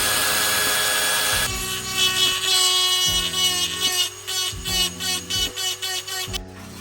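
A power drill grinds through material in short repeated bursts, loud and close, with a rising whine at the start, drilling a hole centre for a Honda S2000 intake fitted to a K-series engine.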